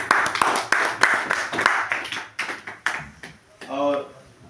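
Audience clapping at a memorial poetry gathering in Paradkar Bhawan, Varanasi, a scattered run of claps close by, thinning out toward the end, with a voice speaking briefly at the close.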